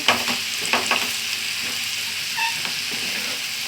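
Pieces of food fry in hot oil in a pan, making a steady close sizzle with a few brief stirring clicks and scrapes, unbroken throughout and with no talk.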